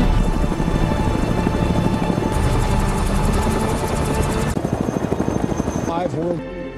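Presidential helicopter lifting off in an action film, a loud close rotor chop with rhythmic blade thumps and turbine whine that shifts in pitch as it rises, with dialogue heard over it.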